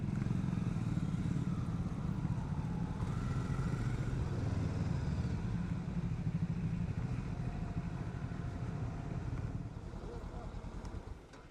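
A Honda NX500 motorcycle being ridden, its engine a steady close rumble blended with wind roar that holds level the whole way through.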